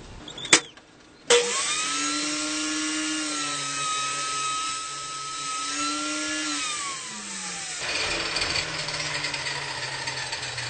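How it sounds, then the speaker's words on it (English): A table saw cuts through a board: two sharp clicks, then the blade spins up into a loud, steady whine that dips in pitch as the wood feeds through and rises again near the end, up close. "you can get a straight edge just using your table saw"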